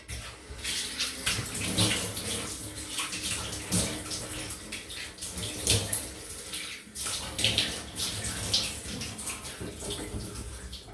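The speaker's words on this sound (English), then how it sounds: "gotta go down for the usual wet splash, cold splash" Steady running water from a tap with irregular splashes and sloshing close by as cold water is splashed on a face, continuing for several seconds without talk.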